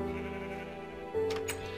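Sheep bleating in the video game Minecraft, a single wavering, nasal bleat with a steady tone that shifts in pitch midway, close and clear over a soft game background with no talking.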